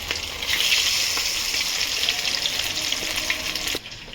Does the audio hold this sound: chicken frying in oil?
yes